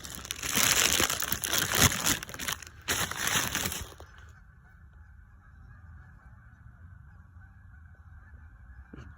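Geese honking in a loud, dense burst over the first four seconds, with crinkly rustling mixed in, then a much quieter outdoor background with a faint steady hum.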